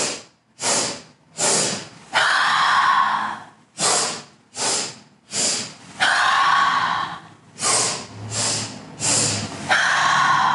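Sharp nasal sniffing breaths in a sunrise yoga session, short bursts in quick pairs alternating with longer rushing exhales, close and loud, with no talk over them.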